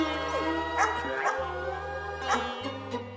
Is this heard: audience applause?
no